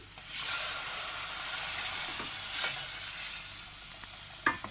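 Thyme and tomatoes sizzle steadily in a hot pan with a bright hiss, broken by a few soft clinks of stirring.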